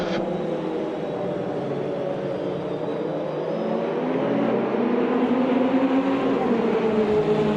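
GT1 race cars, among them a blue Nissan, running at Le Mans in the video game AMS2, a loud continuous blend of engine drones whose pitches slowly rise as the cars accelerate.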